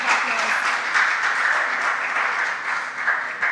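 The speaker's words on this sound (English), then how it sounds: "Give him a round of applause." An audience of schoolchildren at an inter-school academic quiz contest claps in a brief, lively burst of many hands, even and sustained, with faint voices underneath.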